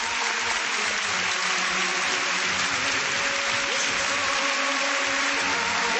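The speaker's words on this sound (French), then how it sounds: "Vous n'arrêtez pas d'applaudir, quoi qu'il arrive." A large audience at a European Parliament show celebrating Portugal's 1986 entry into the EEC applauds continuously, a thick, even wash of clapping with no pauses, heard on an older, slightly muffled recording.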